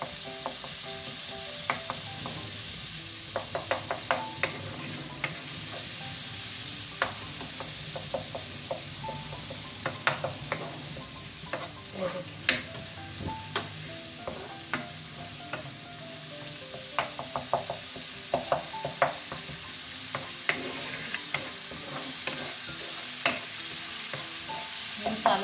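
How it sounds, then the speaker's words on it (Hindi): Brain masala (maghaz fry) sizzles steadily in a pan while a spoon stirs and scrapes, giving irregular sharp clinks and taps over a continuous frying hiss, with no talking. "मसाला हमारा भून चुका है।"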